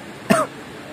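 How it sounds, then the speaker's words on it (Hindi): One short, sharp cough, close and fairly loud, against quiet background noise. "खांसी आना स्टार्ट हो गया"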